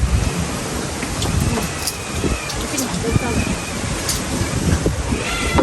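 Wind gusts roar steadily into the microphone during an outdoor family lunch of grilled milkfish at a hut, a dense rumbling buffet that persists throughout.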